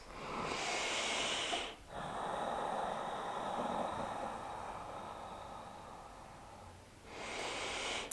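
Slow, deep breathing during a post-run yoga stretch, a long airy exhale drawn out over several seconds between shorter, stronger breaths, close and steady with no talk.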